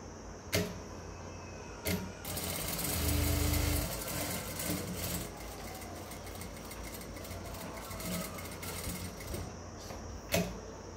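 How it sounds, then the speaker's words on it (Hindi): A sewing machine stitches a homemade cotton bra, running in a steady mechanical whir between sharp clicks near the start and end, close and fairly quiet. "यहाँ से हम इसकी सिलाई लगाएंगे।"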